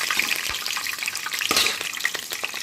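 Two green chilies drop into hot oil with cloves, cinnamon and bay leaf for chicken biryani, producing a loud, close, steady hiss and crackle with scattered sharp pops.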